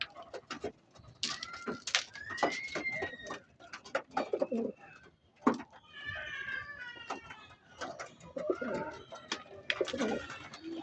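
Racing pigeons coo at a loft after a flight, soft close coos and throaty calls mixed with wing flutters and scuffling, rising and falling through the clip without speech.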